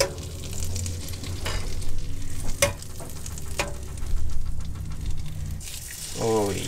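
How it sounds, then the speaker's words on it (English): Seafood or other food sizzles steadily in a frying pan aboard a Corsair 880 trimaran sailboat, a continuous crackling hiss with brief clinks of utensils and a short clatter near the end. "Listen to that sizzle."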